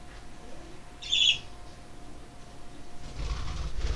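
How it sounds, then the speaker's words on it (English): Pet birds indoors give one brief, sharp call, followed a few seconds later by a soft burst of flapping wings against a quiet room hum. "I have birds by the way"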